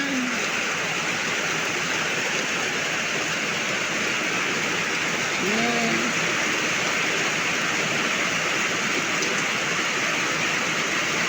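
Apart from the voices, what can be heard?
rain falling in the province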